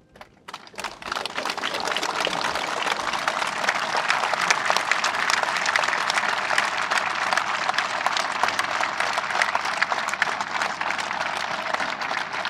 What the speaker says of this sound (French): suivi d'une minute d'applaudissements